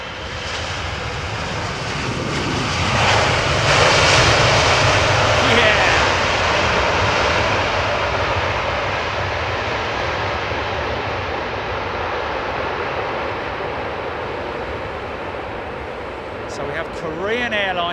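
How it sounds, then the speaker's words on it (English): A Korean Air Boeing 747 freighter on landing approach to London Heathrow runway 27R roars overhead with its jet engines, swelling loud, then fading into a long broad rumble as it passes. "Korean Airline 747 freighter inbound, folks"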